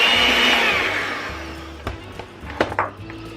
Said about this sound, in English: And blend it together.